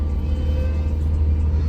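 Steady, loud low hum with a faint whine above it from the power steering pump of a GAZelle van, heard from inside the cab on a snowy road. It drones continuously with no break.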